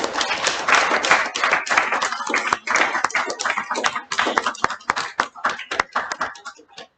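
An indoor audience at an annual meeting claps steadily in a burst of applause that thins out into scattered claps and fades away.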